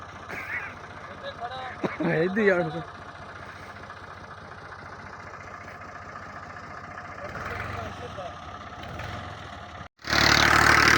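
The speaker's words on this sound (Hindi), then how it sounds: "ये जी ट्रैक्टर ना आगे जाता है ना पीछे, हमने इसको रिवर्स करना है, मोड़ना है।" A tractor stuck between ditches in a Pakistani village idles with a steady low, medium-pitched engine drone throughout, while people talk over it, and a louder burst of noise comes near the end.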